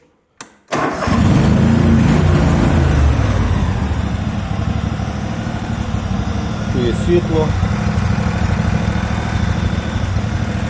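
A John Deere LX188 lawn tractor engine starts up with a quick burst on full throttle with choke, then runs steadily and loudly close by, with a brief voice speaking over it.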